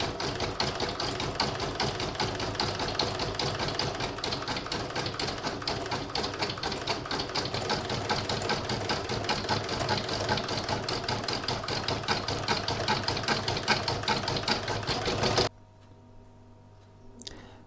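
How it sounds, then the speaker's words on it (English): An embroidery sewing machine satin stitches the web section of a spider web design, a fast, steady mechanical whirring chatter running continuously and close before stopping abruptly near the end, leaving a quiet room hum. "this is going to do all the satin stitching on the web part"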